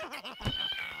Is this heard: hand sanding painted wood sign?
no